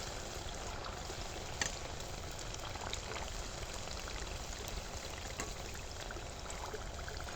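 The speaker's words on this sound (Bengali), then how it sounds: "আমাদের জিলাপির তেল কিন্তু গরম হয়ে গেছে আর জিলাপিও ভাজা হচ্ছে" Jalebi fry in hot oil in a small wok, a steady, soft, even crackle and hiss with a couple of faint pops and no voices.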